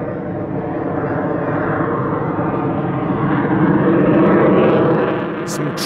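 An F/A-18 Hornet fighter jet performs at the LIMA Langkawi 2023 airshow, a loud, steady broadband engine roar that swells toward a peak and then eases slightly, heard from a distance.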